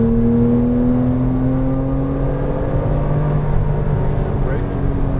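A Porsche Cayman R engine pulls hard on a racetrack, its droning tone rising steadily as it accelerates, loud and close throughout.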